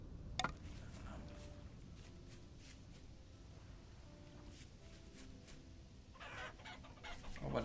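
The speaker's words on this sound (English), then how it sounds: "A whole bunch of chickens over here." Chickens cluck in the survival video game Vintage Story, with soft scattered clucks at low level over faint ambient background and a few brief louder blips.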